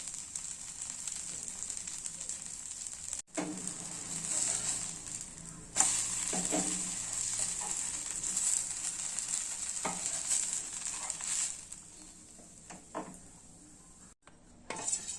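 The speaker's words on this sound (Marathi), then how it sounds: "डोसा तव्यावर तेल टाकलेलं." Steady hissing sizzle of oil on a hot dosa griddle, with occasional scraping and clinks of a utensil against the pan.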